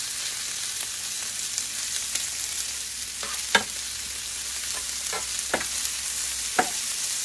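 Fajita vegetables and meat stirred in a pot over heat, a continuous soft sizzle with several distinct scraping clacks of a utensil against the pot at irregular intervals.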